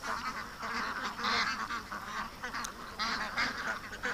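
Ducks and geese raised on a charity farm call in a busy, overlapping chorus of honks and quacks, steady and fairly near throughout.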